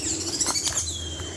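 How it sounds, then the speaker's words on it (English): On a nature walk near a tree, a bird gives several short, high chirps and tweets over a soft outdoor background, fairly close and with no talking. "I know that must be a bird because of the sound it make"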